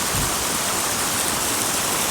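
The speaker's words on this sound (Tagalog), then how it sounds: "Ayan na po, yung falls nila." Water pours steadily at Mahogany Falls, where cold, clear stream water makes an unbroken, loud hiss and rush with no breaks.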